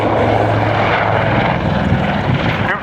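A Westland Lynx helicopter performs a nose-over manoeuvre at an autumn air show at Duxford, its loud rotor and engine roar close and steady with rhythmic blade chop.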